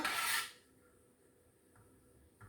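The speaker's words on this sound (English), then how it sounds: "Just clean my spatula." A spatula is scraped clean during breakfast sandwich cooking: one short, harsh rasping scrape up close, followed by near silence with a couple of faint knocks.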